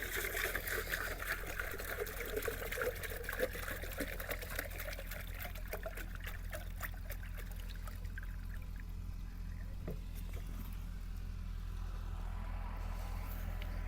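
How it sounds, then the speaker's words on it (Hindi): Water pours and trickles from five-litre containers into a large cooking pot for aloo matar pulao, a steady splashing stream that thins and fades toward the end. "दो डब्बे हमने फुल पानी के शामिल किए हैं"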